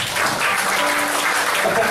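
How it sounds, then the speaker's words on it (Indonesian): Audience applause in a church sermon setting, a steady dense wash of clapping that holds at an even, fairly loud level throughout with no voices over it. "Tepuk tangan bagi Tuhan."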